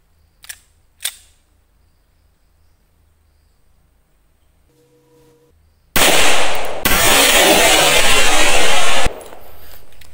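Pistol shots at an outdoor shooting practice: two sharp reports early on, followed later by a loud sustained burst of noise.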